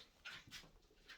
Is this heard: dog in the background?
yes